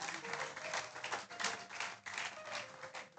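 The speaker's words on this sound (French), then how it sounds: "Acclamons pour Kaba." A church congregation at a Sunday service claps together, quiet and distant, a dense patter of hands rising and falling in waves.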